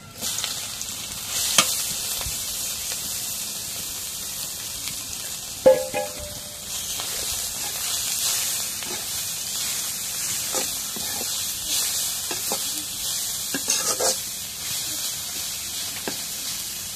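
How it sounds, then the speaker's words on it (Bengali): Leafy greens stir-fry in oil with fried chilies in a pan, a continuous close sizzle and hiss with occasional scraping clinks of a spatula, steady throughout with no talking. "এখন এগুলো ভাজা হয়েছে, এখন শাক দিই।"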